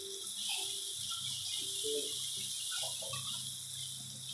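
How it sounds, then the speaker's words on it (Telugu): Water poured into a pan of ground masala paste for an egg masala curry, a steady splashing, hissing pour that runs close and unbroken for several seconds. "కొన్ని వాటర్ పోసుకొని దీంట్లో పోసుకున్నామండి."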